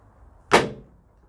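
The rear barn doors of a Ford Transit Custom Limited van swing open with a single short clunk, near and fairly loud in an otherwise quiet setting.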